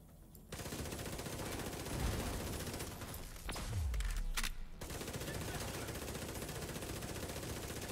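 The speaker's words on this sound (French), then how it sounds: "Envoyer une petite grenade à ces connards." In the video game The Division 2, a grenade blast and gunfire ring out during a PvE fight. Quiet, sustained rattling fire carries on, and a couple of deep, rumbling booms land in the middle.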